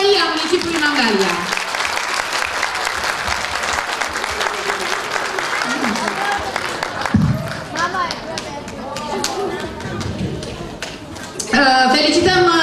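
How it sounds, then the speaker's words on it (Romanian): An audience at a spring folk show at the Mangalia House of Culture applauds warmly for the city hall, with dense clapping swelling and fading while a presenter speaks over it, and louder applause returns at the end. "Vă rog să aplaudăm Primăria Municipiului Mangalia!"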